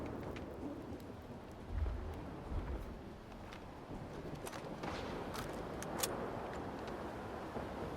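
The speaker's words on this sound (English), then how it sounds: "This storm has been raging for quite some time." Steady rain and low rolling thunder of a thunderstorm in the video game S.T.A.L.K.E.R. 2: Heart of Chornobyl, a continuous hiss with a couple of deep rumbles and scattered crackles.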